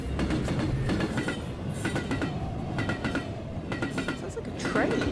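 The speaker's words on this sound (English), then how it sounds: "Sounds like a train." Train in the video game SELF rumbling past with rhythmic clickety-clack wheel beats, moderately loud and steady throughout, set against a faint background wash.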